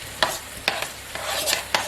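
A child stirring tomatoes in a pan at home, with sharp scraping strokes at a regular rhythm over a steady close sizzle and no talking.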